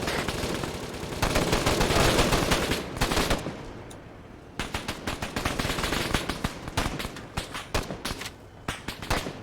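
Heavy gunfire in Arma 3, with dense automatic bursts and rapid shots, loud and nearly continuous, then dropping to shorter rattling volleys with brief gaps.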